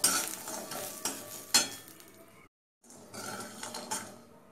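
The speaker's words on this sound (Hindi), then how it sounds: "थोड़ा सा सरसों का तेल डालेंगे इसमें। और बड़ी को अच्छा से भून लेना है।" Urad dal bari frying in mustard oil, heard as a soft sizzle broken by scraping stirs and light clinks of a utensil against the pan, with a brief silent gap midway.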